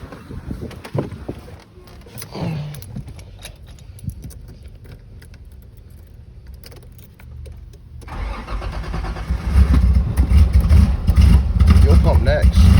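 A 1984 Nissan 300ZX is started after a power steering pump replacement: keys jangle in a quiet stretch, then the engine cranks and catches into a loud, close, rough running rumble.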